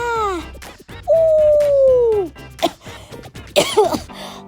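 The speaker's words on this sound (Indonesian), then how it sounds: "kok malah batuk sih?" A sharp, hoarse cough-like bark rings out a couple of times over a steady low background, with a long rising-and-falling call before it.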